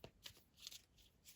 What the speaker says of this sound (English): Just flipped in my hand because I kept shuffling.